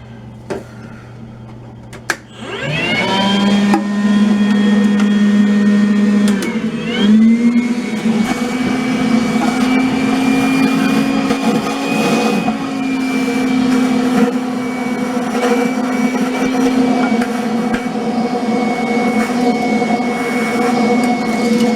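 A vacuum starts up with a rising whine and then runs as a steady, loud drone while sucking water out of a toilet tank during a flush valve replacement, with slight pitch shifts as the water is drawn in.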